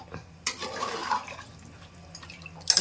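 Water is poured into a pan of frying chicken masala in a home kitchen, making a brief, soft splash that fades into quiet hiss and faint clinks near the end.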